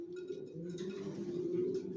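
Racing pigeons cooing in a loft, with a steady low murmuring coo running continuously through the clip alongside faint higher chirps from other birds.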